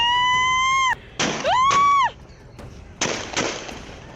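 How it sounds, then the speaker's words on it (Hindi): A rifle is fired repeatedly into the air at a village gathering, giving about four sharp, loud bangs spread across the stretch. The shots cut through a bending, whining tonal sound. "राइफल से आसमान की ओर दनादन गोलियां बरसाई"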